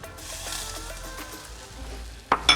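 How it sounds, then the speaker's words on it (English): A spoon scrapes and swirls through a pot of simple barbecue sauce made with brown sugar and yellow mustard, a soft steady stirring with a faint sizzle, then two sharper clinks at the end. "Give that a little stir."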